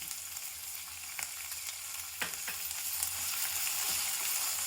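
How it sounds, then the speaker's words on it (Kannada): Ginger garlic paste frying in a pan, a steady soft sizzle with occasional small clicks and scrapes of stirring, moderately quiet and uninterrupted. "ಹಸಿ ಹೋಗೋವರೆಗೂ ಸ್ವಲ್ಪ ಫ್ರೈ ಮಾಡಿ."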